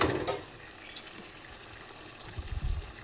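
Water splashes into a pan of cooking cluster bean stir-fry, a short pour at the start and another brief trickle near the end, faint and close, with quiet in between.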